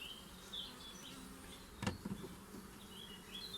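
Honey bees buzz faintly around an open hive during an inspection checking queens' laying after 20 days, a soft irregular hum with a few closer passing drones and a brief knock, quiet with no voices.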